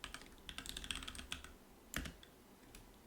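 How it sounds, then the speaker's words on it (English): Fingers type on a computer keyboard in a burst of quick, uneven key clicks, close but quiet, with a short pause and then a few more taps. "Typing that in."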